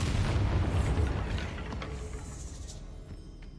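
A Bombarda explosion spell in Hogwarts Legacy erupts as a loud, deep blast that rumbles and slowly decays over a few seconds.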